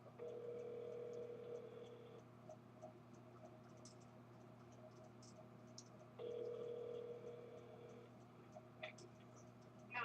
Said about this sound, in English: If you please leave me a message after the tone, I'll get back to you as soon as possible.